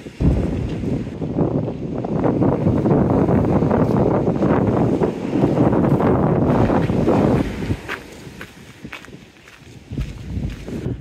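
Wind gusts buffet the microphone on the Teignmouth seawall, a loud continuous rumbling roar with footsteps and faint surf beneath, easing toward the end.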